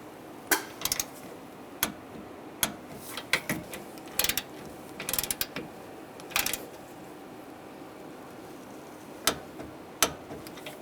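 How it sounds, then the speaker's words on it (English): A ratchet tightens radiator nuts on a 2011-2018 Ram 1500 pickup, giving short bursts of quick metallic clicks spaced irregularly across the clip, close up and fairly quiet, with no talk. "Tighten those down. Now we'll torque these nuts to 17 foot-pounds."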